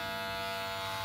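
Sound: electric hair clipper cutting hair over styling comb

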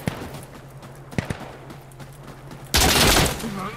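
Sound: gunfire in the video game Insurgency Sandstorm

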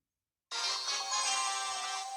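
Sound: Poco's song playing in Brawl Stars video game

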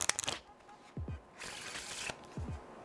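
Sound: shuffling a deck of playing cards

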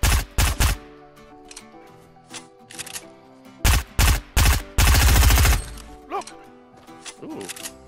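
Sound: SMG gunfire in Fortnite video game

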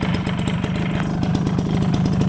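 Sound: Suzuki RC100 motorcycle engine revving

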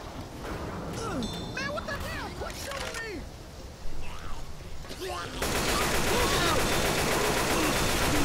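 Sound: gunfire from a zombie shooter video game

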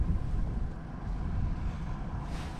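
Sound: moderate wind on a powerboat

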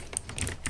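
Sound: computer keyboard typing

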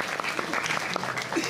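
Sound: audience applause

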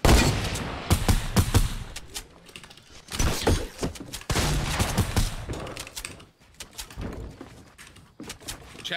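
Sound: shotgun firing in a video game

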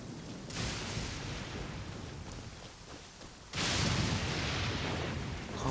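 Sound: lightning strike in video game Genshin Impact

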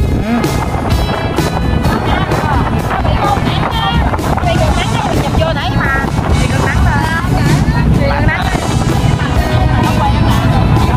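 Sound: strong wind blowing on high-speed ferry deck

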